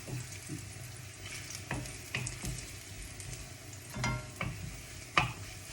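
Garlic frying in oil in a wok for a pork belly glass noodle stir-fry, a low steady sizzle broken by occasional scraping and tapping of a spatula, quiet and close, no voices.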